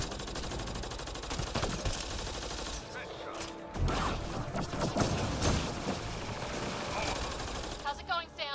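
Rapid bursts of weapon fire in the sci-fi shooter Mass Effect Andromeda, a dense rattling fusillade that runs almost continuously with a brief lull midway, mixed with game effects and background chatter.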